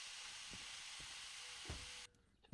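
Steady broadband water hiss from an S060 steam locomotive in the Derail Valley train game, loud and continuous for about two seconds before cutting off abruptly, with a few soft low thumps underneath.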